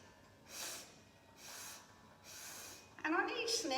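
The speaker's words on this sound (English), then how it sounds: "So we're going to take 3 sniffs." Three short, distinct nasal sniffs spaced about a second apart during Pilates breathing in a beginners' class, close and clear, followed by a spoken voice.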